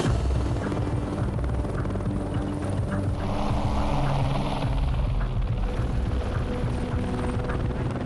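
A helicopter's rotor thumps and engine whine fill the scene steadily at Everest base camp, loud and close, with no voices.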